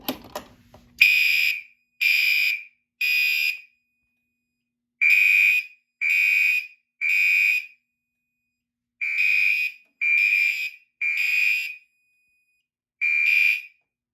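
A Simplex fire alarm system on test sounds in repeated loud, shrill electronic bursts, three pulses in a steady pattern then a pause, cycling on its own with no talk.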